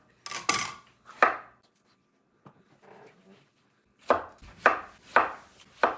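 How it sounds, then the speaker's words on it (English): A knife chops through tomatoes on a cutting board, trimming off moldy spots: two sharp cuts at the start, one more, a faint pause, then four clear, evenly spaced chops near the end, close and crisp. "Chop that off. Don't want moldy tomato."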